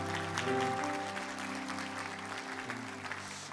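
A church congregation applauds newly ordained deaconesses during an ordination service, a steady, dense wash of clapping held for the whole stretch while organ or keyboard tones sustain underneath.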